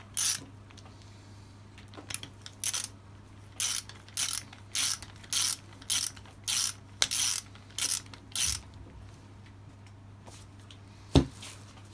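Ratchet turning to tighten the four bolts of a motorcycle brake caliper held in a vise, heard as about a dozen short, evenly spaced bursts of clicking, close and clear, with a steady low hum underneath and one sharp knock near the end.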